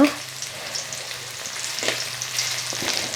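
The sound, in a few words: small sardines frying in an iron pan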